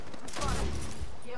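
Apex Legends gunfire, a dense fusillade of rapid shots blurred into a continuous rattling burst throughout, with voice lines over it.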